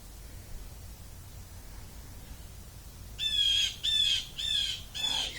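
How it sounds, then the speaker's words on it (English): Four harsh, rising blue jay calls arrive in quick succession near the end, fairly close and loud over a steady outdoor background hiss, with no one talking. "These Blue Jays."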